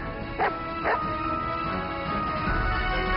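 A dog gives two short barks close by at a dog hotel kennel, then falls quiet over a steady background hum.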